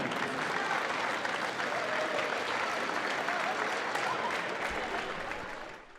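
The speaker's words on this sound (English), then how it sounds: "Let's give one more round of applause for all of our teachers in attendance tonight." Sustained crowd applause echoes through a high school gym honoring teachers at a girls basketball game, a broad even wash of clapping that fades slightly near the end.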